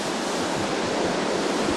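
Headquarters Creek rushes along in full spring flow, a loud, steady wash of water with no voices.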